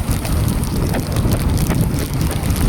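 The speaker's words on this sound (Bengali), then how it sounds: "জোরে বৃষ্টি এসে গেছে তো" Heavy rain at the new Moukhali bridge in Canning, a loud, dense, continuous roar of rain mixed with wind buffeting the microphone, steady throughout.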